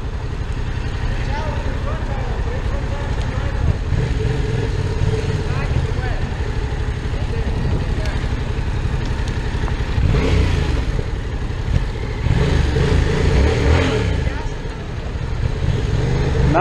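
A 2017 Yamaha FZ-07 motorcycle doing a clutch burnout, its engine a loud, close, continuous rumble that swells into revs toward the end while people talk over it.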